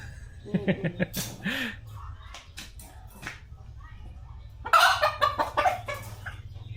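Backyard chickens cluck in short bursts close by on a rural Paniqui farm, with a low steady hum underneath and people talking between the calls.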